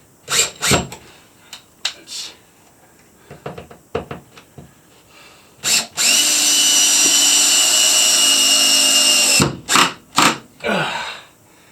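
A power drill fitted with a T25 bit drives a screw into a wall stud, one sustained high whirring run of about three and a half seconds between scattered knocks and handling clatter, close and loud.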